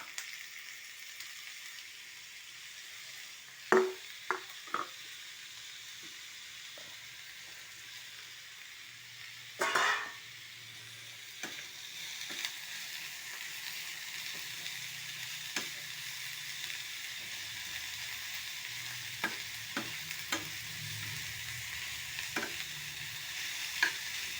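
Chopped vegetables cooking in a pan with onion, ginger and green chilli, a steady quiet sizzle throughout with a few sharp spatula knocks and scrapes scattered across it, close but faint.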